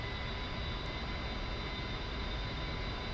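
Steady, loud jet engine roar of an A-10C in the DCS World flight simulator, a continuous broadband rush with faint high whine, unchanging throughout.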